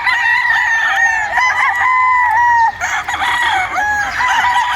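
Gilmore gamefowl roosters on a farm, several loud nearby crows overlapping one after another with some clucking between them.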